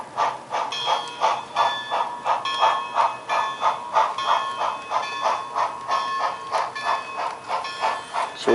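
A Quebec Central model train runs on a prototype-based railroad layout, giving a steady, regular clatter of wheels repeating about every half second, with a faint hiss over it and no voices.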